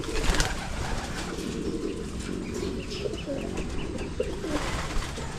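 Pet pigeons or doves cooing steadily in a backyard coop, soft repeated coos with occasional chirps and a brief wing flap over constant ambient noise, no talking.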